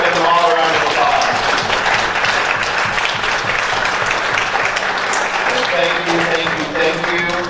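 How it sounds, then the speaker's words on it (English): Sustained audience applause fills a community center gathering after a spirit talk, steady and loud throughout with a dense crowd of clapping hands. "let's give them all a round of applause."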